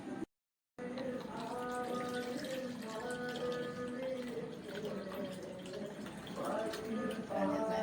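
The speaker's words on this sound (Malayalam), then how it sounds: "നമുക്ക് ഈ ആവശ്യത്തിന് 2 ഗ്ലാസ് വെള്ളം ഇട്ടാ ഒഴിച്ചു കൊടുക്കുന്നുണ്ട്." Two glasses of water are poured into a mixer jar for lime and mint juice, a steady continuous splashing rush heard close up, with a voice talking faintly underneath.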